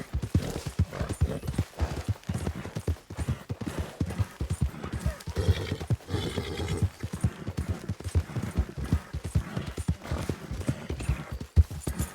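A horse gallops in Red Dead Redemption 2, rapid rhythmic hoofbeats pounding steadily and close throughout, loud against a quiet game backdrop.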